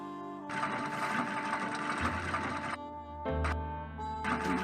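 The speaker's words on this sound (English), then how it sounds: "All I need is the dress Jim Archer gave me, and I can start sewing." A sewing machine stitches a dress in the Nancy Drew game Secret of the Old Clock, running in bursts of rapid mechanical whirring broken by short pauses, over a soft steady background tone.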